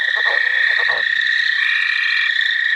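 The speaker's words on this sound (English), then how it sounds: "Tree frog. Tree frog." A chorus of tree frogs calling loudly together at a vernal pool, a steady high trilling drone with quicker chirping notes over it.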